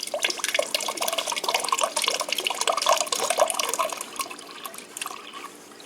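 Water streams steadily from the dispenser of a Frigidaire Gallery French door fridge while a new EPTWFU01 filter is primed, a close, continuous splashing trickle with bubbly gurgles that thins out toward the end.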